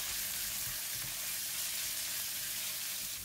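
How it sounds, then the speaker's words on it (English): Minced pork fries in a pan with crispy golden garlic for spring roll filling, a dense unbroken sizzling hiss heard close and steady, with no voices. "Add in all of the minced pork and spread it around the pan for evenly cooked."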